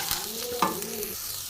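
Potato pieces fry lightly in tempered spices with salt and turmeric in a pan, giving a steady close sizzle with a quick scrape of stirring partway through.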